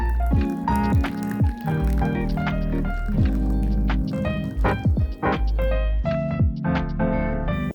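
Hot water poured from the side of a cup onto espresso to make an Americano, giving a steady liquid fill with drips and gurgles that runs for several seconds, close up and with no talking.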